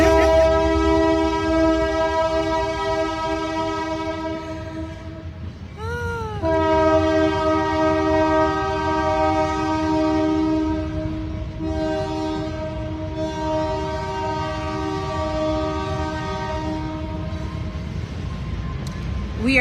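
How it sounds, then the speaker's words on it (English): A loud, sustained train horn blares close by over the steady rumble of a train passing right on the tracks in downtown Simpsonville, holding a chord for the full length with brief dips. "There's no way I'm going to talk over a train."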